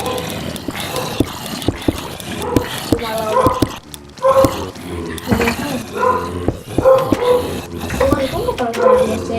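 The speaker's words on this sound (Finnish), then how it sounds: "Koska sun koira haukkuu." A dog barks in the background in short repeated bursts, fairly faint, during a game session, heard under steady overlapping talk from young gamers.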